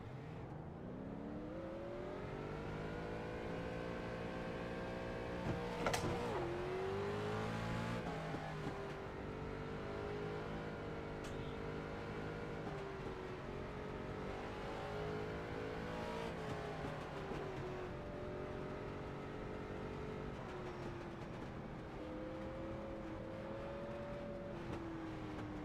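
Race car engines in the iRacing simulator: a steady, close engine drone with slowly shifting pitch and occasional small revs, running continuously without talk.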